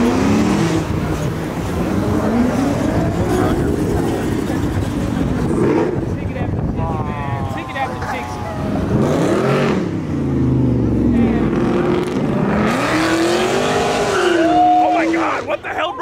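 A loud modified Chevrolet Chevelle accelerates away from a car meet, its engine note sweeping up and down through revs and gear changes, with people shouting and talking over the noise throughout.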